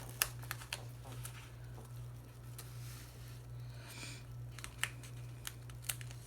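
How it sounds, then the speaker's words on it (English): Backing peeled off a freshly cut sticker: faint, close crinkling and papery tearing with a few sharp little clicks, over a quiet room hum. "So I'm just going to take the backing off that"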